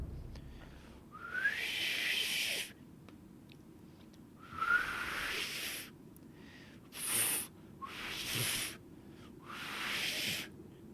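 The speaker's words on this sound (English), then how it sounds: "signal me with a reed whistle" A reed whistle in Sekiro: Shadows Die Twice being practiced, several breathy, airy whistle attempts in separate bursts with short pauses between, some rising in pitch, fairly faint.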